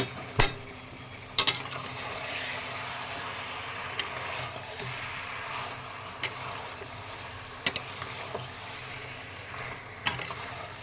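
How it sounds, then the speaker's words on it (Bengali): Tomatoes for chicken curry stirred in a pan, a soft continuous sizzle punctuated by several sharp clacks of the spoon against the pan's rim, no talk. "ঢাকাটা খুলে দেখে নেব, টমেটোটা ভালো করে নাড়িয়ে দেব।"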